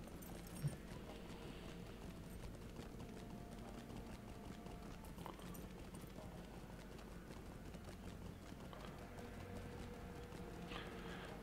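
Rhythmic clip-clop of horse hooves during a manual ride in the online game LOTRO, steady and moderately close, set against a constant low ambient game bed.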